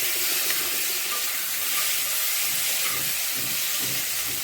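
Mushrooms and paneer are stirred into fried spice masala, giving a loud, continuous close hiss with a faint scraping texture underneath and no pauses until an abrupt stop.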